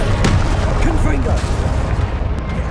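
Booming, gunfire-like blasts of the Confringo explosive spell ring out in Hogwarts Legacy. A voice sounds briefly among the dense, loud game effects.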